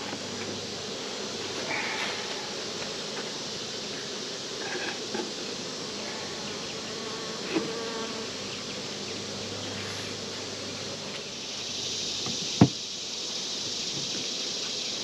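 Bees buzz steadily around open beehives on a hot day, a low continuous drone with scattered louder passes close by and one sharp knock near the end.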